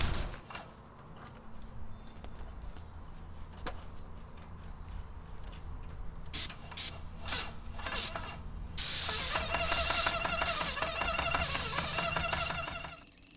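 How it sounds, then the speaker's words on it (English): Gel stripper sprayed from a paint sprayer onto a door being refinished, a steady hissing spray that starts midway and builds into loud bursts with a rhythmic mechanical ticking, close and alone with no talk. "this sprayer that we have is pretty much just dedicated now towards spraying a gel stripper"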